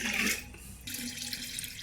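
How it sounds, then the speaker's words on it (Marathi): Water splashes steadily into a clay pot as it is poured from a vessel, breaks off for a moment, then pours again in a close, full gush. "आता मी एका भांड्याने त्या माठामध्ये पाणी ओतणार आहे"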